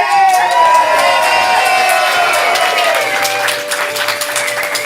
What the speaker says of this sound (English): Let's give big applause to the captain of the Blues